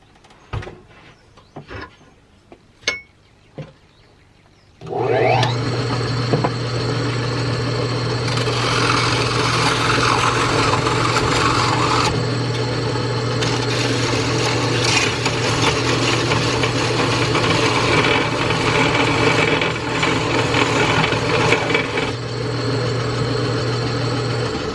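A DIY wood lathe is parting off a workpiece. After a few light taps and clicks, the motor starts with a steady droning hum, and a rougher, louder cutting rasp comes and goes over it.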